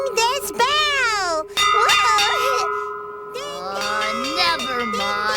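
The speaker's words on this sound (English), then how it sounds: "I'm ringing this bell." A hand bell rings in bright, repeated clanging bursts close by, with short gaps between them. Children's voices chatter over the ringing.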